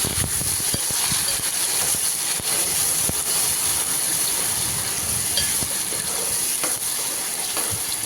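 Onion and tomato paste, ginger garlic, green chillies and curry leaves stirred together in a hot pan for an Andhra-style sea fish curry, giving a steady close sizzle and frying hiss with scraping stir strokes throughout.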